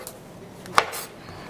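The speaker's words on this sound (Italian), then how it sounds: "lo andiamo a tagliare a cubi abbastanza precisi" A kitchen knife slices through cheesecake trimmings on a board, cutting them into cubes with one distinct close chop amid soft handling sounds.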